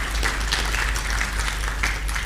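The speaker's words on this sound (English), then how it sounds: "Round of applause to them." Applause from an audience at an agricultural finance learning event, a steady wash of many hands clapping throughout, moderately loud over a low background hum, with no clear speech.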